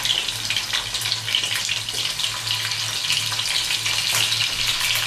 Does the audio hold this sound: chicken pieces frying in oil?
yes